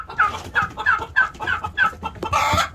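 Chickens cluck repeatedly in an outdoor backyard run, a steady series of close, moderately loud clucks and short calls with no talking.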